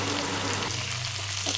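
Onions and vegetables frying in a pan for homemade pasta, giving a brief, continuous close sizzle with no voices.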